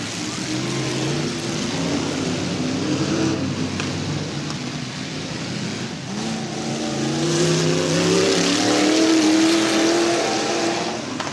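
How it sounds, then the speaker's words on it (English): A loud race car engine roars continuously on a race track at night, pitch rising and falling as it revs through gears, with a throaty, droning tone throughout. "She is definitely the loudest car on the track tonight."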